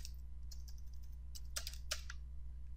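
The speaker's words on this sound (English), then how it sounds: "I'll type my name in there." Typing on a computer keyboard: scattered light key clicks in short bursts over a low steady hum, close and quiet, with no voices.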